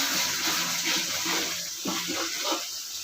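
Water is poured from a cup into a pan of fish curry with poppy seed paste, a steady close splashing stream that runs throughout, with a few louder sloshes toward the end.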